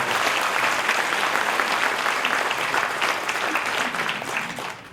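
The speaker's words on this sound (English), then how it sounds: "Can we give them a round of applause, please?" Applause at an International Baba & Nyonya Convention in Melaka: a large crowd claps steadily and loudly for several seconds, then the clapping thins and tapers off at the end.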